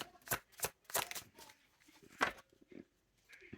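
Oracle cards shuffled by hand in several quick riffling bursts, each a crisp papery flutter close to the microphone, separated by short pauses and light handling taps, with no talking.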